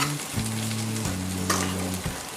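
Boiled rice goes into a hot pan and is stir-fried for veg fried rice, a steady loud sizzle with scraping stirs, close up under light background music.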